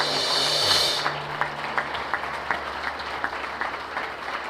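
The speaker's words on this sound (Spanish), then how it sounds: "dale el aplauso fuerte al Señor" A congregation at a Spanish-language church service applauds loudly for the Lord, with some rhythmic claps standing out over a continuous wash of clapping as a tone fades early on.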